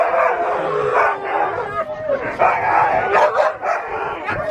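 Sled dogs at a Skagway kennel demonstration bark and yip in a busy, overlapping chorus, close and loud, with people talking among them throughout.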